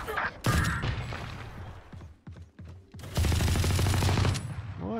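Automatic gunfire from a Valorant match being played on console, loud rapid bursts recurring across the clip with brief gaps, interspersed with clicks and mechanical game sounds.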